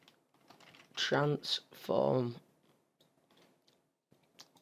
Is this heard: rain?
no